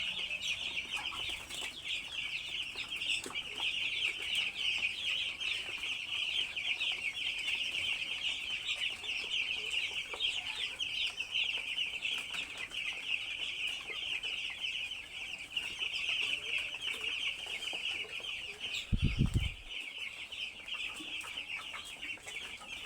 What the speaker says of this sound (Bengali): সকালেই মুরগি হাঁপাচ্ছে।